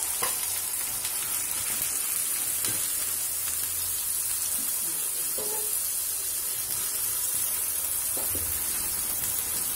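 Sliced onions and grated ginger sizzle steadily in about three teaspoons of hot oil in a kadai for an egg veg dish, with a constant close frying hiss and occasional soft stirring scrapes, no talking.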